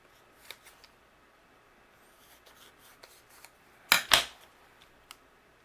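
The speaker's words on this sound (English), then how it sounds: "Let's trim it down." Scissors trim a sheet of patterned paper for a handmade greeting card, giving two quick, close snips in a row after a few faint rustles and taps.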